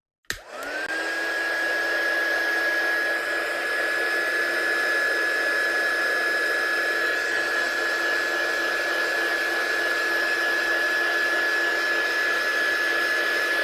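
A heat tool blows steadily while drying a wet craft project, a loud, close, continuous whirring hiss with a steady high whine that starts abruptly and holds unbroken throughout, no talking.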